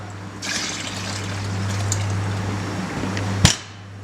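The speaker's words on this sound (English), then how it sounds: "And it's open enough, I can pour that out." Water pours out of a freshly opened young coconut in a steady, close trickle with a low hum underneath, ending in a sharp knock or clunk.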